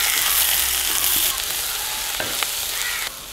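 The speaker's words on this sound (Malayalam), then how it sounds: "നല്ല പോലെ വഴറ്റ് സവാള ഒന്ന് വഴറ്റിട്ടുണ്ട്." Onion sautés in oil in a pan with a bright, steady sizzle, close up, broken by a few scraping stirs of a spoon and no talking.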